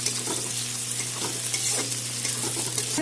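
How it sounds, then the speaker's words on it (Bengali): Chopped onions frying in oil for a chicken curry, with a steady close sizzle throughout and repeated scraping strokes of a spoon stirring them around the pan; a low constant hum sits underneath. "পেঁয়াজ ভাজা হয়ে গেছে, লাল হয়ে গেছে।"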